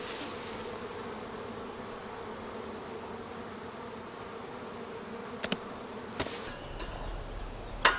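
Honey bees buzzing steadily around a hive at a steady close drone, with a few sharp knocks and clicks near the end.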